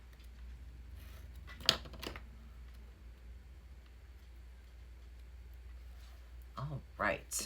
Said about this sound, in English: one last little trim